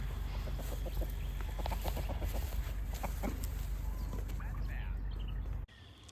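Chickens cluck busily in a flock after a hen has laid an egg, overlapping calls close by over a dense farmyard background, with a voice speaking, before the sound cuts off near the end.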